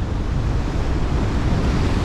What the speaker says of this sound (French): Bourrasque de vent, bourrasque de vagues.